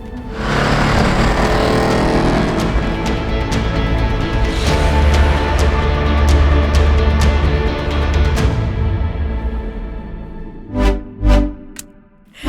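A 1971 Alfa Romeo Montreal's 2.6-litre fuel-injected dual overhead cam V8 runs loud and close, holding a sustained rev for about eight seconds before dropping off, then three short sharp blips.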